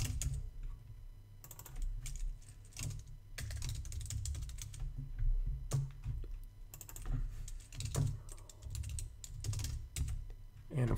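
Typing on a computer keyboard while entering web menu pages, a quiet, close run of irregular key clicks, some in quick bursts, with a brief pause between them and no talking.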